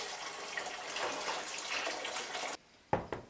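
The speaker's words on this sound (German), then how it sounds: "Ich denke, ich werde das Wasser ein bisschen abgießen" Hot water poured off a canning pot of plums into a sink, a steady broadband rush for about two and a half seconds that cuts off abruptly, followed by a couple of brief splashes and drips.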